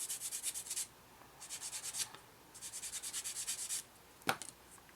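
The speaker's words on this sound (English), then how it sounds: "I'll sand these first, actually." Parts for a 1/32 scale Eduard Messerschmitt Bf 109E-3 DB601 engine model are sanded with a soft sponge, giving quiet, rapid rhythmic rubbing strokes in three bursts, close up, followed by a single sharp tap.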